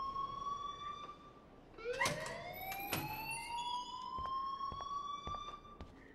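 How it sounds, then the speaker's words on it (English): A school alarm in the video game Life Is Strange wails with rising and falling electronic tones over a soft background hiss, sustained for several seconds with a few sharp clicks. "please turn off that alarm since that's your job"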